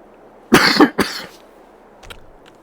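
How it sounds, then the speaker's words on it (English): Two sharp coughs in quick succession, close and loud, followed by quiet room noise and a faint short rustle. "sorry about the cough"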